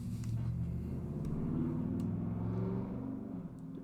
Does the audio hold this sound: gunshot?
no